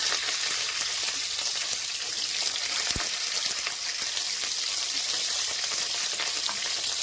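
Eggplant, onion and potato frying in a pan give a dense, constant, bright sizzle, close and loud throughout, with a single sharp tap partway through.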